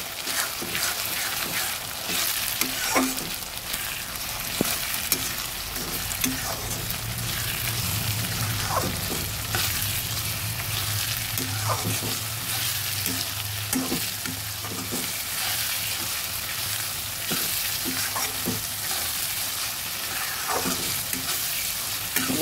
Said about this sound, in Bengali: মিডিয়াম আছে পেঁয়াজ কুচি আর আদা রসুনটা ভালো করে ভেজে নিচ্ছি